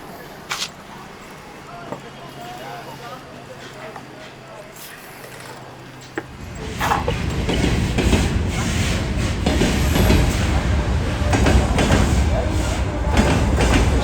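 A train at a station in Mongolia, a quiet platform hum giving way to a loud rolling rumble and clatter as it moves, under a voice talking.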